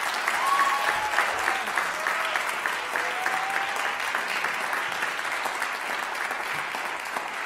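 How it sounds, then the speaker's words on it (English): Audience applause welcomes performers at the opening ceremony of the APAC Theatre Festival: a steady wash of many hands clapping at fairly even loudness for the whole stretch, dense and continuous, with no voices over it. "give these folks a really big, warm round of applause as they come and share their art form with us"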